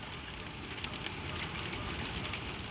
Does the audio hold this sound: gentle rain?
yes